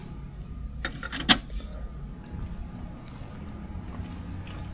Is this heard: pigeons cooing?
no